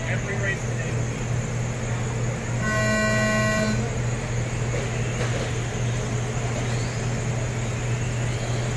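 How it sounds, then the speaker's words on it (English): Race-start tone for RC Euro semi truck racing, a single clean electronic beep lasting about a second over the steady whine of the model trucks, with voices in the background. "next sound you hear will be the start of your race."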